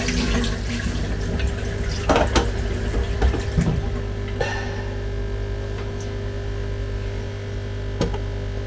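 Running tap water rinsing an aquarium filter in a sink, a steady close splash and trickle with a few knocks and clatters early on, over a constant low mains hum.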